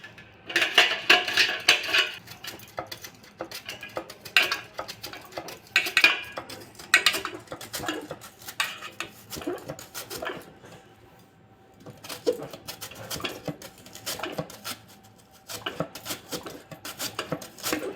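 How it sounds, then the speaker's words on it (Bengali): Peeled potatoes rubbed against a grater to cut them for homemade potato chips, giving bursts of scraping and clattering strokes in uneven runs, close and fairly loud, with a short pause partway through. "একটা গ্রেট মেশিন দিয়ে আলুগুলো আগে গ্রেট করে নেব"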